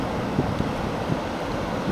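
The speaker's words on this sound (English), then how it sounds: "it's kind of windy though" Steady wind buffeting a microphone at a beach, a continuous broadband rush with gusty surges and low rumble throughout, no voices.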